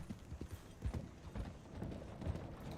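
Horse hooves clip-clopping steadily in the video game Red Dead Online, a quiet, even rhythm of close hoofbeats with faint mechanical creaks and no talking.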